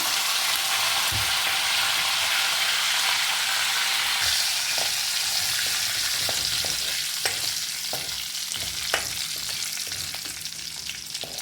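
Mustard seeds, cumin, fenugreek seeds, curry leaves and asafoetida temper in hot oil for an Indian gooseberry (amla) chutney, a loud, steady sizzle with scattered popping crackles and occasional clinks of stirring, no voices.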